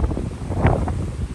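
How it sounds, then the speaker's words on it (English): Wind rumbles and buffets the microphone on a cruise ship's low deck at night, a steady, fairly loud low roar with slight gusts. "Quiet down here too, except for the wind noise."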